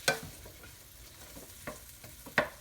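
Onions fry in a pan with a few sharp scrapes of stirring, short clacks standing out over a faint, quiet sizzle with no talk.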